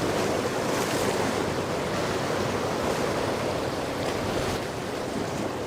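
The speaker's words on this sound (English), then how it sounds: "look how rough the water is. It's like tossing the boat around" Rough ocean waves toss a boat about, a loud, continuous rush of surf and wind noise that stays steady throughout with no talking.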